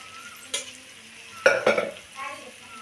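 A spoon stirs tomato masala with chili powder in a pan, giving a few scraping clinks and short bursts of frying over a quiet low sizzle.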